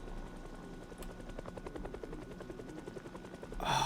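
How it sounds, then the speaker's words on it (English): A helicopter in the Project Zomboid video game flies overhead with a steady, rapid rotor chop that swells louder toward the end as it passes close. "Can you hear the helicopter?"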